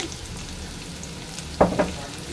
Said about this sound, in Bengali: এটাকে একটু ভেজে নিয়ে